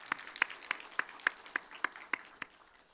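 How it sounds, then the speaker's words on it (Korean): A church congregation claps in unison during a Sunday morning worship service, about ten crisp, evenly spaced claps in a steady rhythm, moderately loud over a quiet room. "우리 하나님께 다시 한번 영광의 박수 올리겠습니다"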